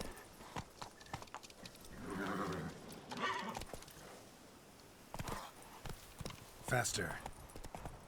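Hoofbeats from Roach, a horse in The Witcher 3, clip-clop along in uneven bursts, with a whinny near the seven-second mark, while someone talks over the game.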